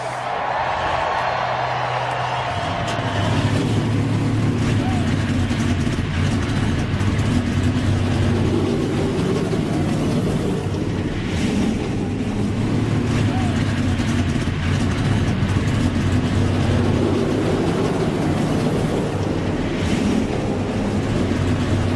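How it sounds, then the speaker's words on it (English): Race car engines in a video game rumble and idle together at the start of a stock car race at Texas, a steady, loud drone, several motors layered with a low throbbing hum throughout. "Drivers, start your engines!"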